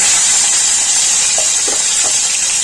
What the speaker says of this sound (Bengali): আমি এবার টমেটো কুচিগুলো দিয়ে দেব।